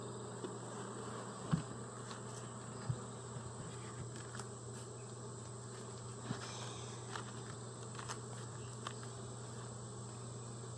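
Honeybees at a ten-frame hive box give a faint, steady buzzing drone, with a few soft knocks and taps scattered through it.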